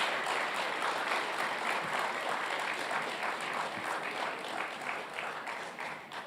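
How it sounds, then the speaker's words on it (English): Sustained applause from a large audience at a Doctor of Physical Therapy convocation ceremony, dense and even, slowly fading toward the end. "give them a big round of applause"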